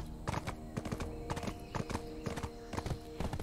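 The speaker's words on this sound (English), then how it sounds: "Should I really be riding a horse through this?" Horse hooves clip-clop at a brisk walking pace in the video game Black Desert Online, steady rhythmic clopping mid-distance and fairly quiet, with no talking over it.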